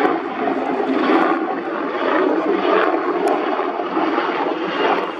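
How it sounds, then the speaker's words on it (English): A C-2 Greyhound propeller aircraft flies past near the deck of a ship in San Diego, a loud, steady, broad engine roar that swells and eases slightly throughout, heard alone without talking. "A C-2 Greyhound?"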